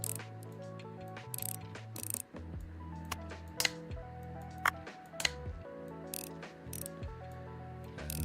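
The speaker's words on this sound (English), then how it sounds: "Put these screws in. Tiny little baby screws." Tiny screws are driven in by hand during a cozy restoration, a string of small ratcheting clicks and metallic ticks, close and fairly quiet, repeating in short irregular bursts.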